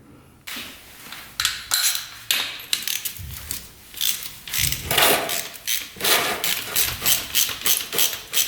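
A ratchet clicks repeatedly as it loosens the oil drain plug bolt on a 2-stroke quad, rapid metallic ticks in short strokes, close and fairly loud, with no talking.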